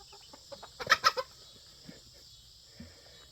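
Escaped backyard chickens, including a juvenile rooster, wandering outside their small pen give a quick close burst of clucks, followed by a few sparse, fainter clucks against a quiet background.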